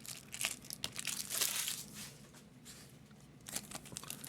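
Foil packs of 2023 Topps Series 1 baseball trading cards are torn open by hand, giving soft, faint crinkling and ripping in short bursts.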